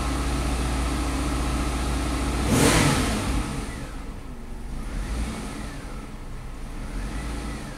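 A car engine idles with a rough, loping, uneven rhythm, close and steady throughout, with a brief swell in revs early on before settling back to the lumpy idle.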